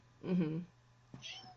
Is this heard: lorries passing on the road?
no